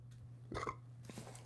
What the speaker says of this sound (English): Ooh, pepper burp.